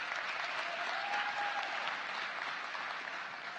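Steady applause from a crowd at a graduation commencement ceremony, dense clapping sustained at an even level throughout, with no voices standing out.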